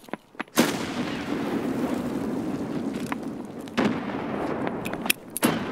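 Grenade blast in Escape from Tarkov during a Customs map firefight, a sudden loud boom that opens into a sustained rumbling roar, followed by a few sharp cracks and thumps.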